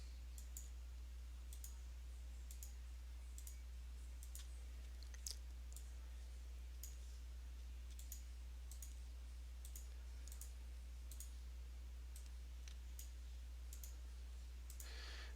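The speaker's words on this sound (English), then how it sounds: "changing the switches from on to off simply by clicking on them." Soft, evenly spaced mouse clicks tick away one after another in a quiet room as switches in a page editor are toggled, a light regular rhythm over faint background hum.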